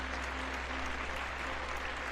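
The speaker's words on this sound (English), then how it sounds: "And a big round of applause for Margaret." Applause for Margaret during a live stream, heard faintly as a steady, distant wash of clapping over a constant low hum.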